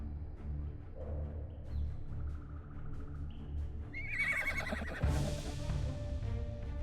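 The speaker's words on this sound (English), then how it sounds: "The little horse is going neigh." A baby horse in the Star Stable Online video game gives a high neigh and whinny over game music and ambient sound, followed by a brighter burst of game effects near the end.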